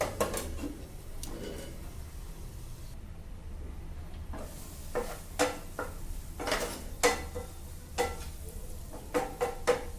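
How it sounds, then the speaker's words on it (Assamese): A lid clinks and clatters onto a pan of sizzling tomatoes being cooked for a tomato paneer fry, with a few sharp metallic knocks over a steady frying hiss and stirring. "এতিয়া অকণমান ঢাকনিখন লগাই দিম"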